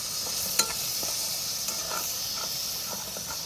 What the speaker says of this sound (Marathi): आणि आता आपलं मालवणी मसाला हा बघा. परतून घेऊया.